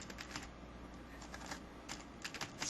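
Half a sheet of paper is crumpled into a ball by hand, giving a run of dry, crackling rustles in short bursts close to the microphone.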